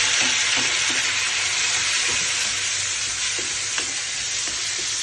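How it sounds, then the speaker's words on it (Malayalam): Tomatoes tossed into potatoes frying in a pan for a Kerala-style aloo raita, giving a steady close sizzle broken by soft scraping stirs, with no talking. "അപ്പോൾ ഇതിനകത്തിലേക്ക് നമുക്കിനി തക്കാളി ഇട്ട് കൊടുക്കാം."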